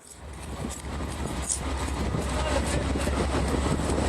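A train rumbles steadily with a deep low drone and broad hiss, building over the first half second and then holding at an even level, heard close from on board or nearby.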